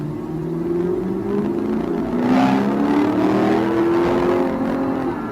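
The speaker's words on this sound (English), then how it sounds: "did you hear that upkick in the engine?" A Lexus GS F, a heavy car of about 4,100 pounds, revs high under acceleration with a loud, steady engine note that climbs and holds for several seconds, close and with no talking.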